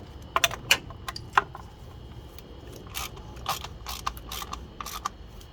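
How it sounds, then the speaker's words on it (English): A ratchet snugs down a valve cover bolt on an Infiniti Q50 3.7, giving a few sharp metallic clicks at first and then scattered bursts of ratcheting, close by and moderately loud. "Now use my ratchet and snug it"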